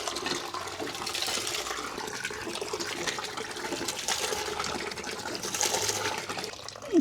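Water rushes fast into a bucket on a small farm, a steady, loud gushing and splashing wash that continues for several seconds without pause and with no voices over it.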